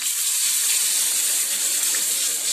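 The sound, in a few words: pouring meat stock (yakhni) into the pot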